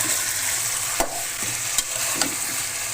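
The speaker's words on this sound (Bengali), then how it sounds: "এখন আমি ভেজে রাখা মুরগিগুলো দিয়ে দেব।" Fried chicken pieces are stirred into a spice masala in a pan, with a loud continuous sizzle and a few sharp spoon scrapes and knocks against the pan.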